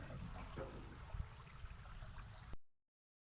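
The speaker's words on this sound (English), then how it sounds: "This waterfall." Rushing water from a waterfall in a natural setting, a steady close wash of noise with a few small splashes, lasting about two and a half seconds before cutting to silence.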